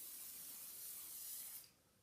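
A single sustained hairspray hiss lasting over a second, close and soft, then cutting off abruptly.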